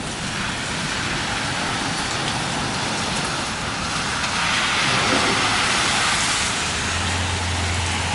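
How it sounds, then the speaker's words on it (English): Heavy rainstorm pouring down at an intersection in Richland, Washington, a loud dense hiss of rain on surfaces with a low rumble rising toward the end. "it's certainly a lot of rain for this area"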